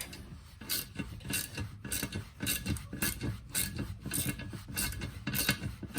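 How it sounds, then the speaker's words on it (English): A bolt is worked loose from beneath a boat captain's seat, giving steady rhythmic scraping and clicking strokes up close, like a ratchet being turned. "I'm gonna remove the bolt right here."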